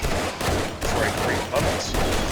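Rapid, dense pistol gunfire from the 7 Days to Die zombie survival game, loud and near, shots running together in short bursts.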